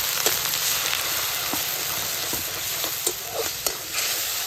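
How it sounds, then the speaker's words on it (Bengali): Spice masala of red chili powder, Kashmiri chili powder and salt cooks down with a splash of water in a pan, giving a continuous close sizzle broken by several sharp scraping stirs. "একটু জল দিয়ে মশলাটাকে আমি কষিয়ে নেব।"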